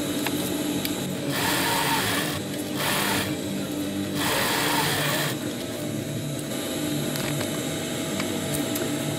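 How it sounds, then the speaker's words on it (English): A sewing machine stitches a cross stitch on a fabric chest pouch, its fast whirring motor running in several bursts separated by short pauses, close and steady with no talking. "Now we want to do a cross stitch."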